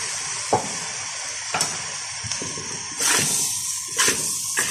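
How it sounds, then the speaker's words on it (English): Sausage fried rice with soy sauce is stirred in a hot pan, giving a continuous sizzle broken by repeated scraping strokes of the utensil against the pan. "Give that a really good stir through."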